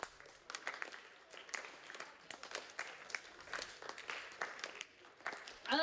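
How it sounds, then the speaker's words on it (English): A slam-poetry audience claps slowly but unevenly, many separate hand claps overlapping into a loose, steady stream of moderate applause with no clear unison beat, heard from within the room. "Slow clap."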